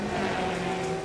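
A race car in the Le Mans Ultimate sim racing game, heard from a distance somewhere on the track as a steady, echoing engine drone with reverb, briefly and without any talk.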